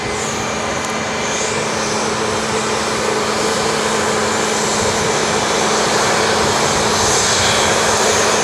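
A LATAM airliner's engines roar steadily at Sydney Airport, a sustained broadband rumble that grows slightly louder over the span, mixed with nearby maintenance machinery noise.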